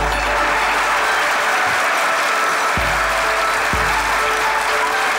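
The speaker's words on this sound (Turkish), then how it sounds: "Hocam bariz bir zil alkışı var" Studio audience applause with a rhythmic 'zil' pattern: dense, loud, continuous clapping from a crowd throughout, with a few sharp accented claps standing out.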